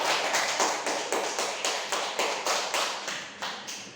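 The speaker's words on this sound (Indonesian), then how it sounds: "Tepuk tangan untuk kelompok." Applause for a student group at a micro-teaching class presentation, heard as a steady run of rapid rhythmic claps throughout, moderately loud and close, with no voices over it.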